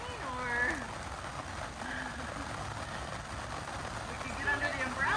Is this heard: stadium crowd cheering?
no